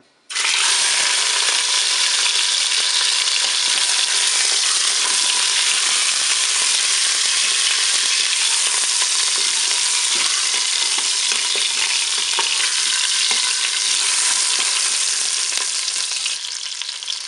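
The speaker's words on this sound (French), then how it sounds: "le préchauffage est terminé, je vais pouvoir faire revenir mon rôti" A pork roast sears in hot oil inside a Cookeo multicooker, giving a loud, dense, unbroken sizzle that starts abruptly and carries on for the whole stretch without any voices.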